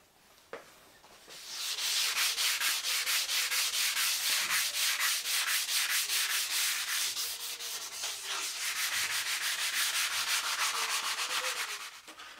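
Steady, loud sanding on a wooden guitar body, a continuous raspy rubbing with a quick repetitive back-and-forth rhythm, close up and without voices.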